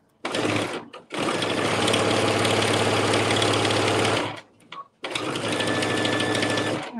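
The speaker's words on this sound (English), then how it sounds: "So we're halfway through machine binding now." A sewing machine stitching binding onto a quilt runs in three loud, steady bursts of fast mechanical whirring, with short pauses between them and no talk.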